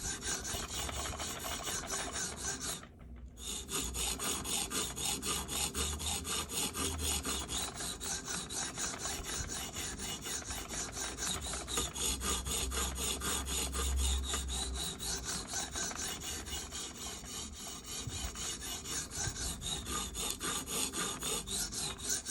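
Spyderco Sage 5 knife with CPM Rex121 steel being profiled on a sharpening stone, a steady, fairly faint grinding rasp of repeated strokes across the abrasive with one brief pause, no talking.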